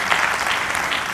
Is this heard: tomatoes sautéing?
no